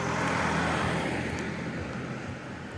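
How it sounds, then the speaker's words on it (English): Steady roadway hum of cars passing through a town at night, a continuous moderate wash of traffic noise with no voices. "Even the cars provide ambience."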